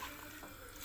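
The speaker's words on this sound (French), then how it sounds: "Donc, je rajoute un verre d'eau, un verre moyen." A medium glass of water pours into a pot of lamb chorba with vermicelli, a brief, faint splashing trickle lasting under a second.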